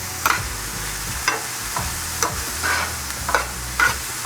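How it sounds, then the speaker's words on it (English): Red onion sautéing in a hot pan, a soft steady sizzle broken by several distinct stirring scrapes and knocks of a spatula, close and fairly loud with no voices. "we're gonna saute this for 3 to 4 minutes until our onion is lightly browned"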